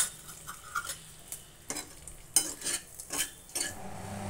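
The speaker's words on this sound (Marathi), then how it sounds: "राजगिऱ्याचं पिठाचं भाजायची प्रोसेस ही चालू आहे." Amaranth flour roasting in ghee in a pan, with a soft background sizzle broken by irregular scraping and stirring clicks of a spoon against the pan, fairly quiet and close.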